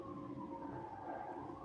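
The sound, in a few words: emergency vehicle sirens in the background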